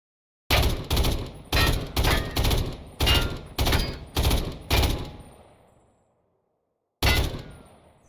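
Gunfire from an M-series gun in a Minecraft weapon mod: nine loud, evenly spaced shots ring out in a steady rhythm, each with a short decay, then a pause and one final shot.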